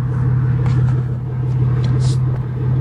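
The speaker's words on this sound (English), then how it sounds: "Rev the engine, slowly release." A manual Toyota engine revving while reversing on a farm, a loud, close, low rumbling drone that stays steady throughout.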